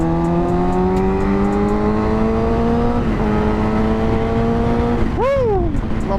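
A 2011 Suzuki GSX-R600 motorcycle engine with about 33,000 km, revving up steadily in a long climb, dipping briefly, then blipping sharply up and down near the end; loud and close, with no speech.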